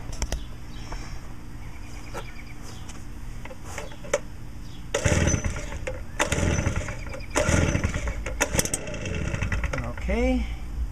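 A small two-stroke gas string trimmer with no primer, set on choke, is cranked by pull cord: several sharp, separate pulls, then the engine briefly catches with a rising, sputtering whine at the end.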